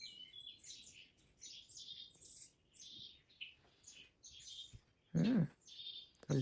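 Small birds chirp and tweet in quick, high repeated phrases, fairly soft, broken by a couple of brief louder thuds.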